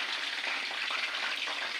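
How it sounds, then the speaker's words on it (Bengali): Bottle gourd leaf rolls frying in a pan, a steady, even hiss of hot oil crackling softly and continuously with no voices over it. "এইভাবে এগুলোকে ভাজি করে নিতে হবে, সুন্দর করে ভাজি করতে হবে একটু"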